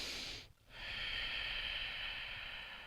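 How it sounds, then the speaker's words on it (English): Deep breathing during a relaxed third-trimester birthing ball workout, a soft, close airy breath with a brief pause before a long steady exhale, heard alone without talking. "So inhale, exhale."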